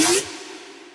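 Serum synth bass patch with the Hyper voicing effect on, giving one short bright bass hit with a thickened, detuned edge, close and loud, then a steady sustained tone that slowly fades.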